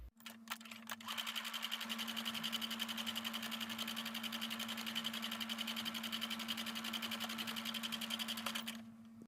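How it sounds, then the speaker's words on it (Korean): A sewing machine stitching a handmade bonnet-style hat, its fast, even whir running steadily for about eight seconds before stopping, quiet and close with a faint underlying hum. "각지지 않게 바느질 시작하겠습니다"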